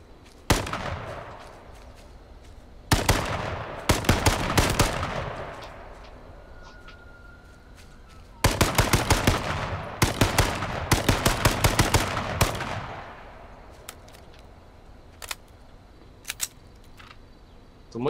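Rapid bursts of gunfire crackle in clusters in the video game H1Z1, with long quiet gaps between volleys and a few isolated single shots trailing off.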